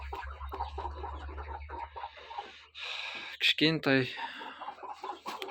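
Backyard hens cluck and cackle in short bursts near a person, with a louder squawk midway and a low hum early on; a voice speaks over them.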